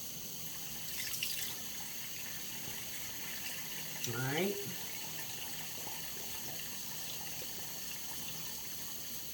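Cold water runs from a tap into a sink as a faint, steady trickle, with a short louder splash partway through and a voice speaking briefly.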